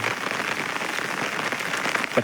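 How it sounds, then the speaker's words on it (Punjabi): Steady rain falls close by in Punjab, a dense even hiss of drops spattering on surfaces with no voices. "ਤੇ بارش ਲਗਾਤਾਰ ਜਾਰੀ ਹੈ"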